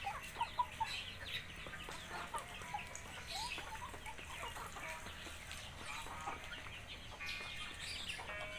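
A red-combed free-range village chicken clucks in a steady, busy stream of short calls, with more birds cackling around it in the yard at moderate loudness.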